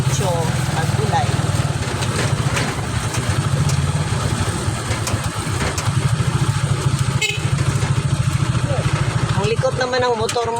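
A motorcycle engine drones steadily while riding, a low buzzing putter with wind noise, and people talk over it throughout.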